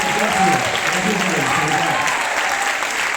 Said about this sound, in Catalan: sisplau, un aplaudiment per ells